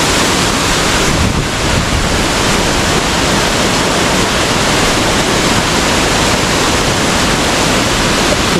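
Waterfall at Hidden Paradise Resort in Infanta, Quezon, a loud, steady roar of falling water filling the whole clip, close and unbroken, with some wind buffeting the microphone and no voices.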